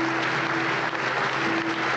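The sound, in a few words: stadium crowd's minute's applause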